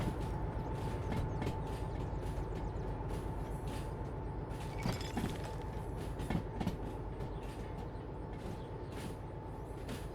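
A long freight train rolling along in Derail Valley, a steady low rumble with rhythmic clickety-clack of wheels and faint mechanical squeals, fairly quiet and continuous.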